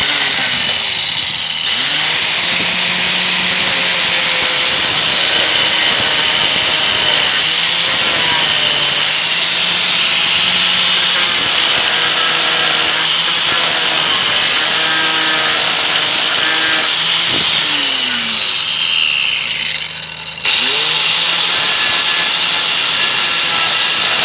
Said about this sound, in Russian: Сейчас покажу, как я буду болгаркой обрабатывать